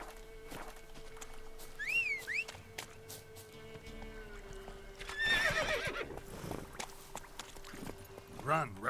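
A horse in the video game The Witcher 3 whinnies and clip-clops along over a quiet ambient hum, with a short whinny early on, a louder neighing burst midway and another at the end.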